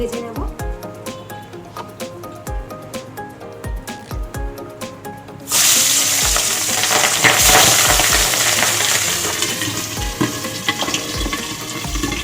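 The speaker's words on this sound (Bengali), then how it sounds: "আমি চার পিস মাছ দিয়ে দিয়েছি ভীষণ ভাজছে" Loud sizzling as four pieces of salted pabda fish hit hot oil, spattering and crackling continuously after a few scraping and tapping sounds at the start.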